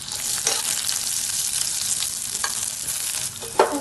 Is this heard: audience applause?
no